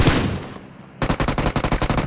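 Automatic gunfire in the mobile game BGMI: after a fading noisy burst and a brief lull, a rapid, loud string of about a dozen evenly spaced shots rattles out close by.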